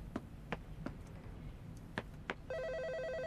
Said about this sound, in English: All right, the phone.